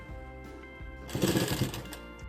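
A sewing machine runs a short burst of stitching on a princess-cut blouse, starting quietly and swelling into a loud, steady whir halfway through, heard up close with no talk.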